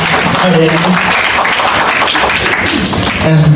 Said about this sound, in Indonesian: Tepuk tangan boleh teman-teman